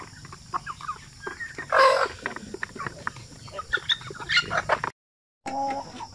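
Shamo gamefowl chickens cluck and call in a farmyard, with a louder burst near the middle and scattered clucks throughout, briefly cutting out before resuming.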